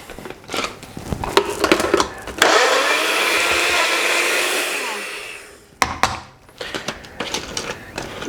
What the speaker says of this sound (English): any type of blender